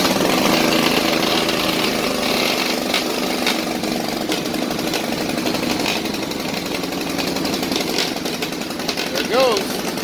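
A Predator 212 gasoline engine fitted to an Ariens AX208 compact snowblower runs with a rough, rapid chatter throughout, close and loud, its pitch wavering slightly.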